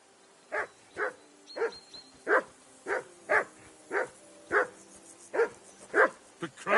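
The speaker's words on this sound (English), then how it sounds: "Call off that damn dog before he wolfs down the last of our mates." A dog barks repeatedly in the video game Kingdom Come: Deliverance II, a steady run of about a dozen evenly spaced, close, sharp barks with a faint whimpering undertone.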